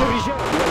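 Gunfire in Battlefield 2 Project Reality, a short burst of shots loud and close in a busy battle mix, with a voice speaking faintly underneath.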